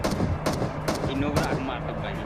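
Gunfire in a battle royale video game: a rapid series of sharp shots in bursts, several distinct cracks over a busy game background, with a voice speaking faintly underneath.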